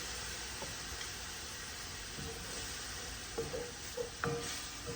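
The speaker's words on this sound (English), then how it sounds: "Get all this sauteing together." Ingredients for a coconut Caribbean pasta sauté in a pan, a soft, steady sizzle with a few faint utensil clinks and scrapes toward the end, quiet and close with no talking.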